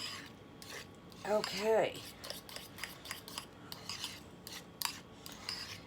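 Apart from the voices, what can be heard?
stirring deviled egg filling in a bowl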